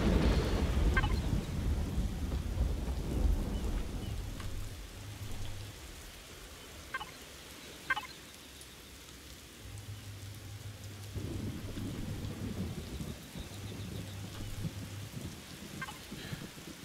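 Rain falls steadily in the video game Empyrion while rolling thunder rumbles low and deep, swelling and fading across the scene with no voices over it.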